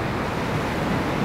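Ocean waves washing back off an Iceland shore, a steady broad rushing wash with some wind, continuous and fairly loud, no voices.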